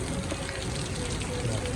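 Heavy rain falling in a downpour, a dense continuous hiss of drops close by, steady with no break.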